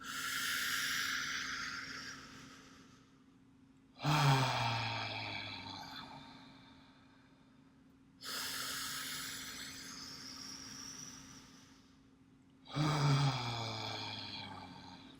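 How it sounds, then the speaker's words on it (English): A person breathes deeply during a breathwork exercise, alternating long hissing inhales and heavier voiced exhales in a slow steady cycle, two full rounds, close to the mic with no talk. "We're gonna inhale, exhale. Just let that air out."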